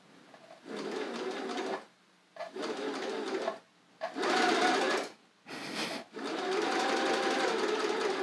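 A sewing servo motor runs in sewing-machine mode in several bursts of one to two seconds, a close, buzzing mechanical whir that starts and stops with short silent gaps, the last run longest.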